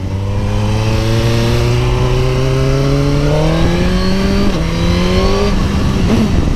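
A 2021 Suzuki GSX-R1000R or Kawasaki ZX-10R sportbike makes a track pass, its engine revving hard and rising through the gears with a couple of quick shifts, loud and close throughout with no talking.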